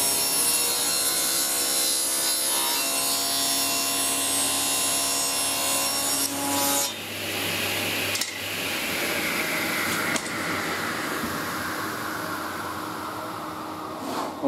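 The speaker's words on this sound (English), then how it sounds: "Okay, now I can give all them a sanding down." Hand sanding of wooden spice rack parts, a close, continuous rough scraping and rubbing with steady strokes and short breaks, no voices.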